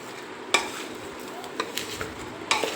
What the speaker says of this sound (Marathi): तर हे छान असं एकजीव करून घ्यायचं सगळं ढवळून